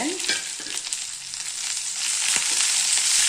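Curry leaves sizzle loudly in a pan with small shallots and garlic for a curry leaf chutney. The steady, close frying hiss is broken by scraping stir strokes, and no one speaks.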